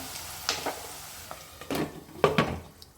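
Onions and green chillies frying in a pan over a medium flame, with soft sizzling and several sharp scraping stirs and clinks of a utensil against the pan, close and alone.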